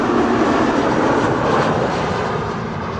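A KLM airliner arriving at Amsterdam Schiphol Airport gives off a continuous loud jet engine roar, steady and broad, easing off slightly over a few seconds.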